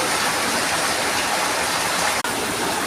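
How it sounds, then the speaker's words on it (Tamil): Heavy afternoon rain pours down in a dense, unbroken hiss that stays loud and steady throughout, with one brief dropout near the end. "மழை பெய்யுது"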